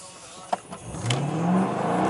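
A 2015 Dodge Charger R/T on 26-inch Forgiato wheels revs up and pulls away with a rising tone, tires spinning against the road in a burnout, close and fairly loud.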